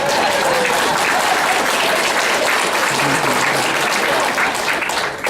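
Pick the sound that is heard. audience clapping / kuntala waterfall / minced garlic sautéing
audience clapping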